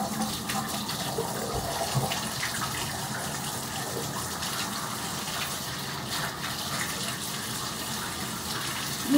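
Bath water gushes steadily from a tap into a household bathtub, a constant broadband rush heard up close with no voices over it.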